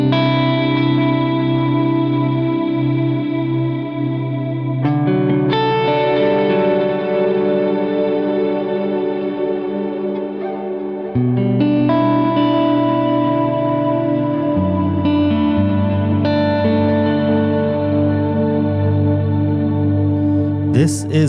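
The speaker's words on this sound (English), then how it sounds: "I know you heard some of this particle verb here that I kicked on before" Acoustic guitar played through the particle verb reverb on a Line 6 Helix, with sustained strummed chords that bloom into a shimmering, washy ambient tail. The playing is close and steady throughout, with no voices.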